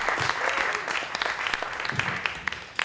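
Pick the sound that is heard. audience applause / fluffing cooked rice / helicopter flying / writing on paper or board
audience applause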